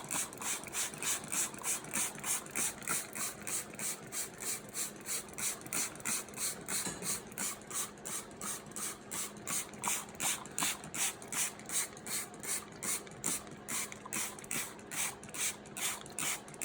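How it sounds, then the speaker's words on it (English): A hand spray bottle squirts water onto soil in a seedling tray, giving a long, steady run of quick, evenly spaced trigger pumps and hissy spurts, close and fairly soft, with no talking. "I'm gonna spray again on the same spot to make sure that the water is really penetrating the soil."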